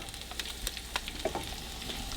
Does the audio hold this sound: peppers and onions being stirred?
yes